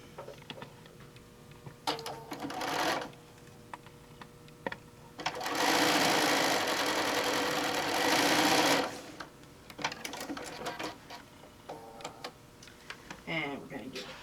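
A sewing machine stitches quilt fabric in short bursts and then one steady run of about three seconds, with a person talking in the pauses between the stitching runs.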